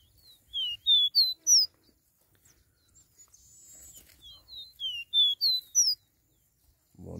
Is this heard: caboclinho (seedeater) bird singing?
yes